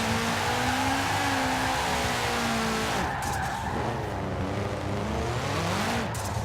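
A 2005 Subaru WRX STI drifting in Forza Horizon 4, its engine holding a steady high rev while tires squeal continuously, with the pitch shifting and wavering midway through the slide.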